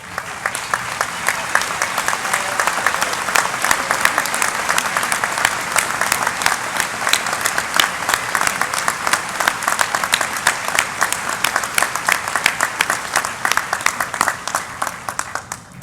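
Sustained applause from a large audience at a university graduate school's fall commencement ceremony, steady dense clapping throughout with a faint crowd murmur, no talk over it.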